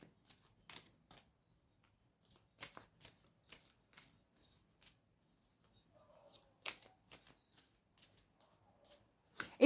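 Tarot cards are shuffled by hand in a quiet room, with short, soft riffling and tapping bursts that come and go irregularly, close by and faint.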